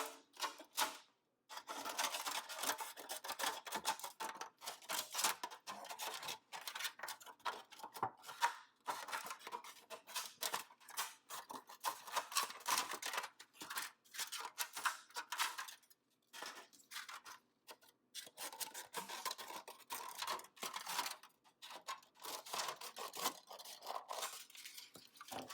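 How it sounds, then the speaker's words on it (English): Scissors snip through recycled number 6 plastic, cutting it into smaller pieces with a long run of quick, close, crisp clicks and crunches, quiet and uneven in rhythm, with no talking. "I'm going to cut my plastic into more manageable pieces"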